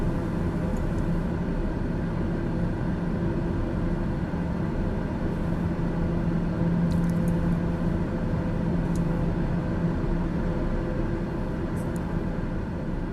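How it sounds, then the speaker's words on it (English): TBM 930 turboprop engine drone in Microsoft Flight Simulator, a steady, loud, unbroken cabin hum with a low tonal whine, constant for the whole stretch with a few faint clicks above it and no speech. "we're going to turn the plane noise down a little bit because it's kind of loud"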